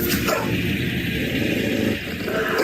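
A dog barks and yips in an agitated run of sounds close by, with some growling and whimpering mixed in over a busy background, and no talk.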